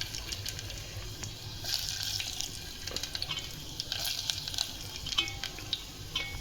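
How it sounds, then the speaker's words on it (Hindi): Garlic hits hot oil in a home kitchen pan and gives a soft, steady sizzling hiss that stays faint and even throughout, with no one talking. "चलिए ऑयल हो गया, लहसुन डालते हैं"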